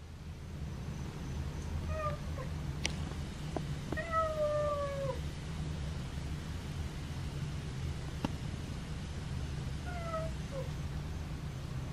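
Kittens meow in a yard, several clear, drawn-out cries spaced a few seconds apart, rising over a steady low outdoor hum with no talking.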